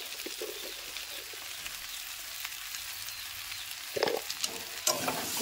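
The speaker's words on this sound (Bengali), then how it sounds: "এবার আমি আলুটা আর পটলটা দিয়ে মশলাটা ভালো করে কষে নেব" Potato and pointed gourd pieces sauté with spices and salt in a pan, giving a soft, continuous sizzle. Scraping stirs punctuate it, with sharper spatula strokes near the end.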